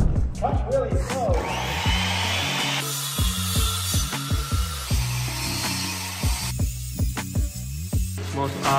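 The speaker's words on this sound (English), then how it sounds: "Now we just cut out this shape and it'll drop right in." A power saw cutting out a shape at a house build, a steady rasping, whining cut running throughout with rhythmic thumps and knocks beneath, close and loud, with people talking over it.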